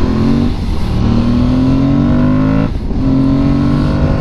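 An Aprilia Tuareg 660 motorcycle accelerates hard along a winding road, its engine loud and close, pitch climbing steadily with two brief dips at the gear shifts before rising again.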